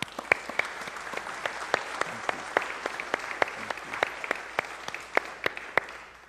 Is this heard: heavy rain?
no